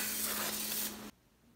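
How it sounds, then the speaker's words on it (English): Aerosol brake cleaner sprayed onto rear disc brake rotors during a Fox-body Mustang brake upgrade, a loud continuous close hiss lasting about a second before cutting off abruptly. "I almost forgot to spray down the rotors before I put them on, but I'll do that now."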